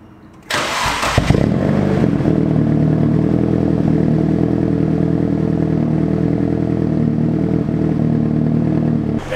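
A vehicle engine cranks briefly, catches and settles into a loud, steady running rumble up close, with no voices.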